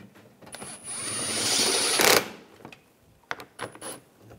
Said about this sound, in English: get these screws in up front. Tighten them down.